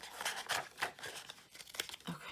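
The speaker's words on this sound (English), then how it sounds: "So I'm actually going to cut this out." Scissors cut a sticker out of a card: a quick series of quiet, close snips mixed with light paper rustling.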